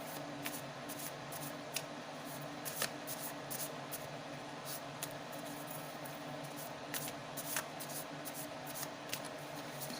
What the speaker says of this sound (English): I just want to shuffle more.